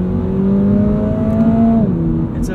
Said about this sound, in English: How do you guys think this BRZ sounds? I'm still not quite sold on the engine note.